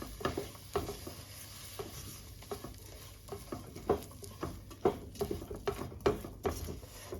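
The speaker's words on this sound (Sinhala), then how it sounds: "දැන් මේ ටිකත් එක්ක හොඳට කලවම් කරගන්න ඕනේ" Sticky honey aluwa mixture stirred in a pan, a spoon knocking and scraping in a steady run of close, soft taps against the vessel, with no talking.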